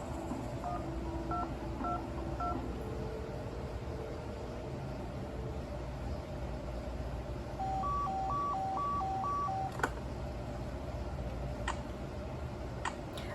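Touch-tone beeps dial a phone number in the Nancy Drew game Secret of the Scarlet Hand, a short burst of tones followed by a second run of evenly paced beeps over a faint hiss, then a few clicks.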